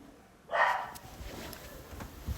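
Dogs in a room let out a single short, excited bark burst, fairly close, followed by faint background noise with a small yip near the end.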